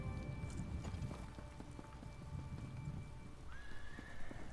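A Gloomspore horse in The Elder Scrolls Online whinnies near the end, a rising high neigh over steady clip-clop hoofbeats and rain-like ambience, with no talk.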